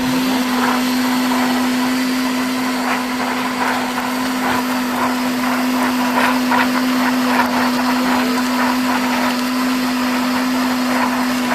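A blender grinds soaked beans into a smooth paste for amino acid plant fertilizer, a loud steady motor whine with a constant hum and gritty churning throughout, no talking.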